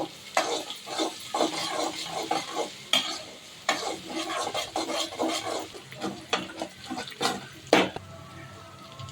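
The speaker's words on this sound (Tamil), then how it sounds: "கடுகு பொரிஞ்சிச்சு நல்லா போ நல்லா கிண்டி விட்டுருங்க ரொம்ப கருவு விடக்கூடாது" Mustard seeds splutter in hot oil with crushed garlic as a spoon stirs the pan, giving a close, irregular crackle of sharp pops and scraping strokes throughout, with no talking.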